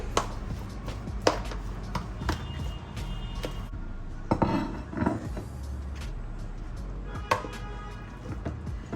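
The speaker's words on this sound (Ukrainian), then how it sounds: "Поливаю оливковою олією. Тепер перемішую в цій ємкості." A seafood salad with hemp seeds is tossed with olive oil in a container, close-up clattering and knocking of a utensil against the sides, with irregular taps and rubbing sounds and a few louder clunks along the way.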